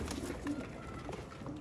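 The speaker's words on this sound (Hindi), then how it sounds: "याद करोगे अज कबूतरां नूं।" Pigeons coo softly in a brief burst of low, throaty murmuring calls that repeat several times, fairly faint and alone.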